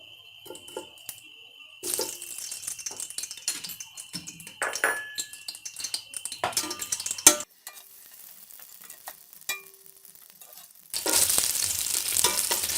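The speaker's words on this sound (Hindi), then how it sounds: "पहले हम इसमें कोफ्ते फ्राई करेंगे" Koftas frying in about a cup of oil. Scattered quiet clinks and handling noises give way to a sudden, loud burst of steady sizzling near the end.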